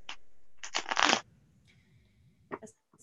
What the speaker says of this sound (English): I'm going to shuffle these and then we'll lay them on top